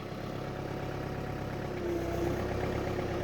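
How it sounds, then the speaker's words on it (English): A tractor engine idles at a steady low rumble, constant and moderately loud, with a slight rise in level partway through and no talking. "So now I'm gonna put the tractor here in neutral."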